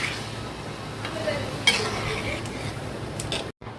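Broth poured into a pot of khesari (grass pea) curry, a steady moderate sizzle with stirring and a light clink of a utensil against the pot, then a brief cut to silence near the end.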